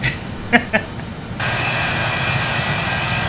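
After a couple of sharp clicks, a loud BAe 146 jet engine roar at takeoff power kicks in and holds steady in a flight simulator, a broad hissing whine filling the space.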